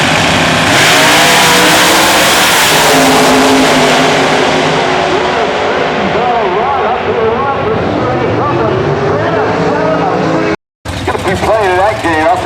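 Drag race cars roar down the strip at the 2004 IHRA finals in Rockingham, North Carolina, a loud sustained engine blast with rising and falling pitch as they pass, briefly cut to silence before engine noise resumes.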